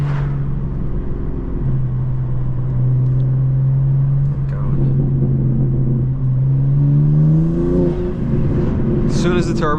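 Turbocharged 800 HP BMW M2 G87 accelerating hard on a highway, a steady droning engine note rising in pitch through the revs from inside the cabin, with someone talking over it.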